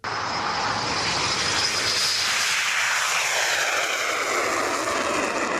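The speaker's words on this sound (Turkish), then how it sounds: "İşte Türkiye'nin ilk insansız savaş uçağı Bayraktar Kızıl Elma. Gökyüzünde böyle süzüldü." Bayraktar Kızılelma unmanned combat jet flying past, a loud, steady jet roar that holds throughout and shifts in pitch as it sweeps by overhead, with no talk.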